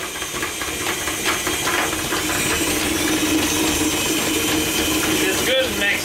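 Electric mixer whirring steadily through rum cake batter laced with Sailor Jerry rum, a loud continuous motor drone with faint rattling, a few clinks near the end.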